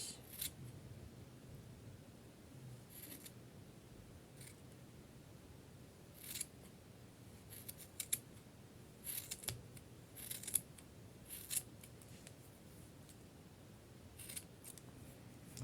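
Scissors snipping through paper or felt while cutting out parts of a Christmas gnome craft, a series of soft, close, irregular cuts over a quiet background.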